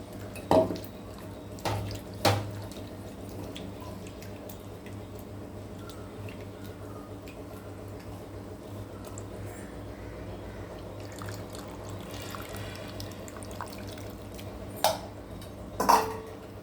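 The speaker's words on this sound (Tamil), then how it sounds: "அந்த புளி வந்து லேசாக கரைச்சி நம்ம சாம்பாருக்கு ஊற்றிடலாம்" Soaked tamarind water being poured into a pot of sambar, a continuous soft liquid trickle with a few sharp clinks of utensils against the vessel at the start and end, close and without speech.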